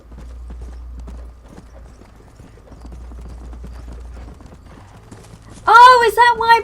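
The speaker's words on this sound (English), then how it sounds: "get on your horse" Horse hooves clip-clop in a steady galloping rhythm in Red Dead Redemption, soft and low under game sounds, followed near the end by a loud, sharp whinny.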